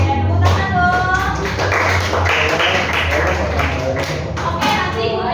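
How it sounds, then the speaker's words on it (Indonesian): A high school class in Jakarta claps hands, a burst of scattered clapping that runs loud and close under a voice talking over it. "Oke, tepuk tangan dong"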